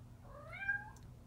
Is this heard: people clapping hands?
no